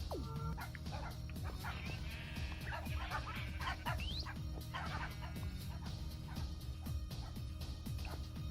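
A dog barking in a video game, with repeated short yips and barks over a dense, constant game soundscape, some whimpering tones mixed in, steady and moderately loud throughout.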